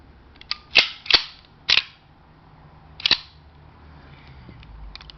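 A 107-year-old Colt 1902 Military pistol chambered in .38 ACP is worked by hand during a safety check, giving four sharp metallic clacks of the action, three in quick succession and one after a pause, close and alone.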